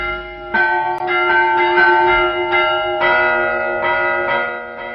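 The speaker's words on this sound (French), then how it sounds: "un sonneur aussi indispensable à ses concitoyens que les harmonies triomphales de sa cloche" A church bell rung by a bell-ringer, loud repeated clanging strikes with long ringing overtones that overlap and sustain.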